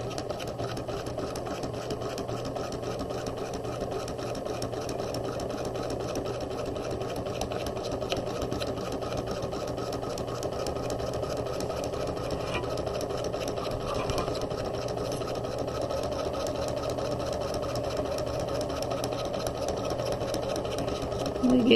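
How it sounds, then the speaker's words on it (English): A sewing machine stitches across the top of a jacket pocket for a quarter-zip jacket, whirring in a fast, steady, continuous rhythm at close range, fairly quiet, without pause. "We'll sew across the top."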